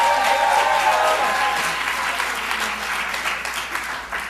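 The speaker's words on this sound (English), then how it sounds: "Let's give April another round of applause." An audience at a youth conference manager's award applauds April DeRochon, sustained dense clapping that stays strong throughout and tapers only slightly toward the end.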